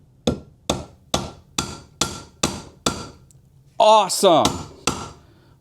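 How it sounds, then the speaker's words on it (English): Seven sharp, evenly spaced mallet blows thud against a felt-padded tool on a floor, closing a floorboard gap, then a voice exclaims briefly before one final strike. "Now I have a place where I can hammer."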